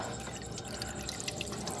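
Coolant dripping and trickling as the cooling system of a 1968 Ford LTD is drained, a faint continuous patter of drops and splashes with no talking.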